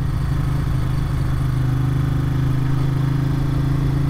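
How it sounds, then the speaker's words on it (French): A 1994 Ducati 900 Supersport fitted with Boss carbon silencers idles steadily nearby, its deep, even engine rumble running alone without any speech. "Alors le vrai plaisir aussi qu'on a avec cette moto, c'est le bruit."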